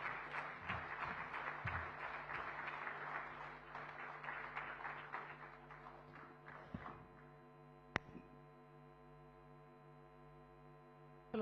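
Audience at a Maharashtra–America partnership event applauds to welcome Chief Minister Devendra Fadnavis: faint, distant clapping for about seven seconds over a steady electrical hum, then fading to hum alone with a single sharp click.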